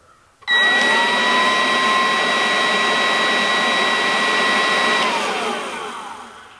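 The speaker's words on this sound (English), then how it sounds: "here is the blower on low" A Snap Fresh leaf blower on its low setting switches on with a sudden steady whirring whine. It holds close and even for about four and a half seconds, then winds down as it shuts off.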